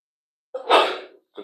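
One sharp, close sneeze in a sauna, a quick intake of breath followed by a loud burst. A brief vocal sound begins just after it.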